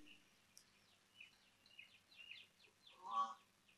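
Birds sing faintly in the distance, a scattering of thin, high chirps and tweets over a low steady hum in an otherwise quiet space, with one slightly louder call near the end.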